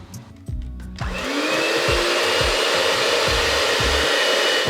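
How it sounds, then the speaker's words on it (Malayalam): An electric hand beater whips a quarter cup of butter for a plum cake made in a pressure cooker. A loud, steady motor whine starts after about a second and runs on with periodic low thumps against the bowl. "ഒരു 1/4 കപ്പ് ബട്ടർ, അതും ഇതുപോലെ നമുക്ക് ബീറ്റ് ചെയ്ത് കൊടുക്കാം."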